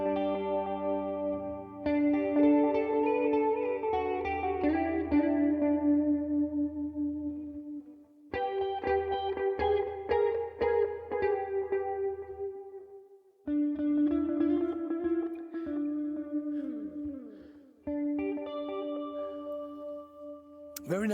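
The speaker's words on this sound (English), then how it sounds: "see how it sounds with the chorus going into the delay, going into the reverb" Electric guitar played through a Tone King MK2 with chorus feeding delay and reverb, ringing chords and arpeggiated notes swelling into a shimmering, echoing wash in four separate phrases with short gaps between them.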